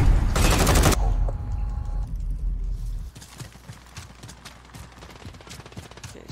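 Uzi gunfire in Modern Warfare, a loud dense burst at the start followed by a string of quieter rapid shots and clicks through the rest.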